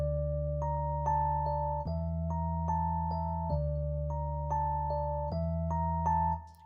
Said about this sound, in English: I'm just selecting an electric piano sound.